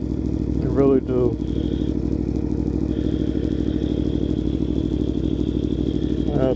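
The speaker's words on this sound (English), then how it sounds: "Bike sound good. Y'all want to hear this thing?" A 2018 Aprilia Tuono V4 1100 Factory motorcycle engine runs steadily and close, a constant loud rumble filling the clip, with a voice briefly talking over it near the start and again at the end.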